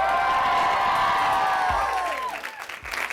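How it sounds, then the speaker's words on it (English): Live theater audience at WBUR CitySpace in Boston applauding and cheering for a podcast taping, a dense wash of clapping and whoops at steady loudness that thins out near the end. "You knew all your applause cues."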